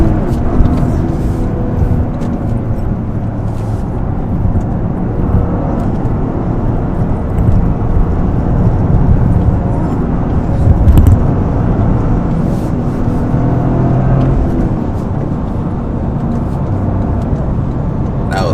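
A Toyota GR Corolla engine drones loudly from inside the cabin, steady road and motor noise with slight surges as it drives hard through turns.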